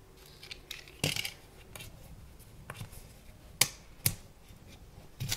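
Scissors snip through the plastic tab on a Baseus 65W fast charger's packaging: a few sharp, close clicks and cuts spaced over several seconds in a quiet room, with no talking.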